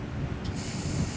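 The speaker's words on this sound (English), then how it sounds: "I'm going to spray a little paint on it." Krylon 2X spray paint hisses from a can onto a folding tabletop for a faux marble finish, one short close spray burst over a low room rumble.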